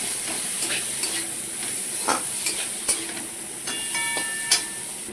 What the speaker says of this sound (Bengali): এবার ভালো করে একটা মিশিয়ে নেব আর একটু কষিয়ে নেবো ভালো করে